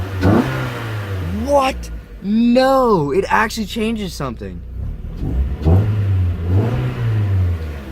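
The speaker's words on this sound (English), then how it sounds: "You can definitely hear the throttle body opening up and sucking air a lot faster." A Mazda Miata fitted with a cheap homemade $20 air intake revs up hard several times, a mid-pitched engine climbing and falling in quick bursts, with people talking over and between the revs.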